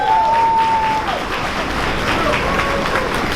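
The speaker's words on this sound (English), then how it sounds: "Yes, right, start clapping." An audience at a university gala applauds for a corporate partner, a continuous wash of clapping with a faint tone and some crowd noise.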